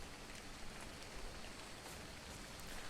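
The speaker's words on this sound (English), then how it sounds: "Acid Rain pouring down on everyone across the way." Acid rain pours down in the video game ARK: Survival of the Fittest, a steady, dense hiss of falling rain that stays even and fairly quiet throughout, with no voices.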